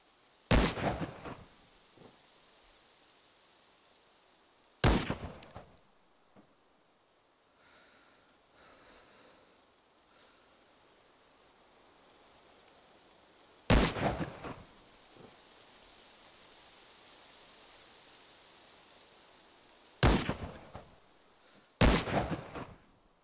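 FN FAL rifle gunfire in the DayZ video game, heard as several separate loud bursts of sharp shots spread out in time, with quiet gaps and faint ambient noise between them.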